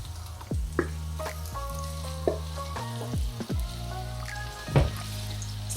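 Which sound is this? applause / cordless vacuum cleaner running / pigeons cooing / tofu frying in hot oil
tofu frying in hot oil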